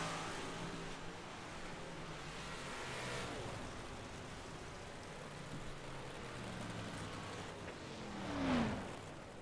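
Dirt track race cars circle a dirt oval during a heat race, a faint, distant, continuous engine roar that swells briefly near the end as a car passes closer.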